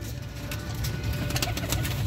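Pigeons coo steadily at a rooftop loft of breeder pigeons, with low throaty calls repeating close by over a constant background hum.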